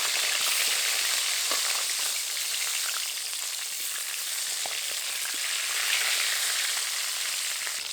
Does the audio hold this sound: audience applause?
no